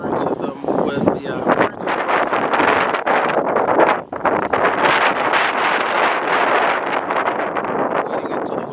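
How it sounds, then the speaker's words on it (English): Outdoor wind buffeting a microphone, loud and continuous with gusty roaring that barely lets up, with a voice talking underneath. "waiting until the wind dies down."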